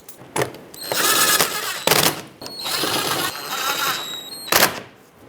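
A power drill drives the fender liner mounting screws on the bumper cover of a 2010-2017 Chevrolet Equinox, close and loud, in three separate whirring bursts of about a second each with short clicks between them.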